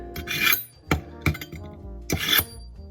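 A kitchen knife is drawn through the fine honing slot of a handheld sharpener, giving four separate rasping strokes of varying length, close and fairly crisp, with short pauses between them.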